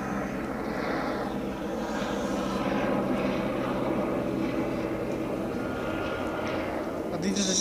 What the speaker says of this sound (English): There's a police helicopter right over there just flying over right there.